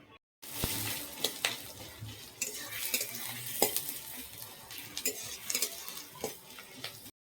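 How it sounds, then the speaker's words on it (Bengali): Onion frying in oil in a wok while being stirred, a soft low sizzle broken by repeated sharp clicks and scrapes of the spatula against the pan, close by and fairly quiet. "পেঁয়াজটা দিয়ে নেড়ে নিয়েছি"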